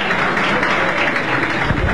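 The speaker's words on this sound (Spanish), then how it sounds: "El Papa recibe el aplauso a su paso rumbo a la planta alta del Palacio de López" A crowd applauding Pope John Paul II as he passes on his way to the upper floor of the Palacio de López, with dense, continuous clapping heard close and loud throughout.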